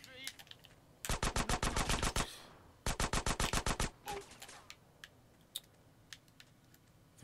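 Gunfire in the video game GTA San Andreas Trilogy: two long, loud automatic bursts of rapid shots, then a scattering of isolated single shots at irregular intervals.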